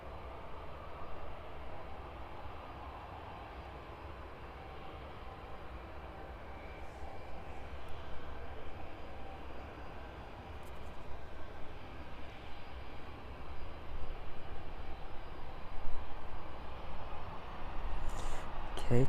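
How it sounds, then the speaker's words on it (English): Aircraft departing East Midlands Airport in the evening, a broad steady engine roar that slowly swells louder toward the end, heard from a distance with no talk over it. "3 aircraft outbound from East Midlands"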